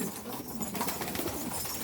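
Istanbul breed pigeons in a loft, soft cooing and fluttering mixed with a dense, steady background hiss, close and continuous.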